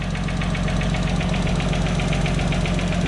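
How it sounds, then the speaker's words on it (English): A Nissan RB25DET six-cylinder in a drift car idles steadily nearby, a fine rapid ticking from the lifters as oil builds up riding over a constant low engine hum. "You can hear the oil building up in the lifters."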